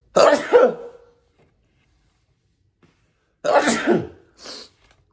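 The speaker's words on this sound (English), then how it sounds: "I sneeze like all over my legs." Two loud sneezes close to the microphone, one at the start and another a few seconds later followed by a short breathy sound, with silence between.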